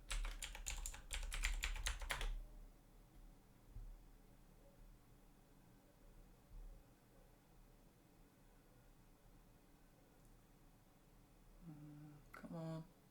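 Rapid, close clacking on a computer keyboard runs for about two seconds, falls silent, then a few more keystrokes tap out at the end.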